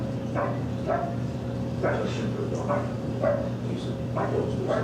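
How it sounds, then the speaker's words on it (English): A dog barks repeatedly at a steady pace, somewhat distant, over a constant low mechanical hum. "They're supposed to bark right away."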